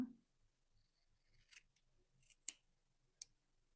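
Scissors snip through paper while cutting out a triangle shape, a few faint, crisp, close-up cuts spaced irregularly over a quiet room.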